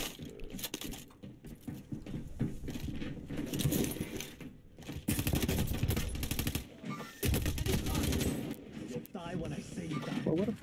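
Gunfire in the video game Warzone, bursts of rapid shots and rattling impacts mixed with loud excited voices talking over the action.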